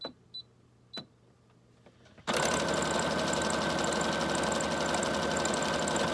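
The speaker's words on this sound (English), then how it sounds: "And then just keep doing that, and just do straight stitch, zigzag, switch back and forth." A sewing machine zigzag-stitches pages of a junk journal made from a box. A few quiet clicks come first, then the motor starts and runs in a loud, continuous, close mechanical whir.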